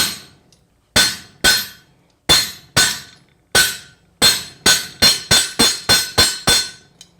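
A hammer strikes hot steel on an anvil while a meat hook is forged, ringing metallic blows that start spaced apart and then come in a fast, steady run, loud and close with no talk.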